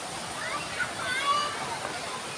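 A stream flows through a valley in Thailand with children playing in the water, a continuous rushing and sloshing with faint splashes and distant children's voices mixed in.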